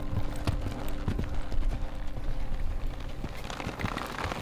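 Horse hooves clip-clop steadily during a slow, easy ride on Lexan, a horse being trained in the Northern Rocky Mountains, with a soft rustling background and no talk.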